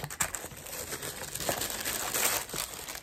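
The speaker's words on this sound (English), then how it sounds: "And I'm unwrapping it." A beauty box package is unwrapped at close range, its wrapping crinkling and crumpling continuously in short, busy rustles, with no voice.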